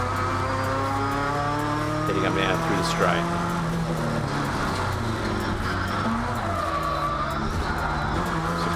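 Race cars at Morgan Park Raceway roar past with revving engines and shifting pitch, a continuous loud motor drone under a commentator talking throughout.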